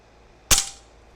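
A single sharp shot from an AirMaks Arms KRAIT .22 caliber bullpup pellet air rifle, a short snappy crack with a brief fading tail, alone against quiet background.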